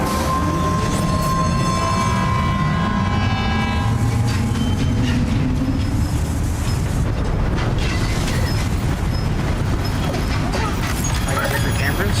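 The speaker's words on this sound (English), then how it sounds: "Okay, I'm just gonna use the monorail." A monorail train in the VR version of the Death Stranding 2 video game rolls along with a steady, dense rumble and rattle, while sustained horn-like tones sound over it for several seconds.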